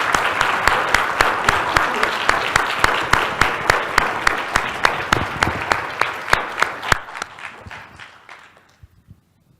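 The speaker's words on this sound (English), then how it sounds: "would you join me in giving a warm applause to Carol?" An audience applauding speaker Carol Tilley at the end of her talk on comics, a burst of rhythmic clapping that holds steady and then fades out to quiet near the end.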